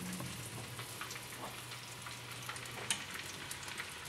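Wild turkey breast searing in olive oil in a hot pan, a steady, fairly quiet fizzling sizzle with faint crackles and a sharper pop near the end.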